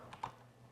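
A couple of quick, faint keystrokes on a computer keyboard in a quiet room, the second click slightly sharper than the first.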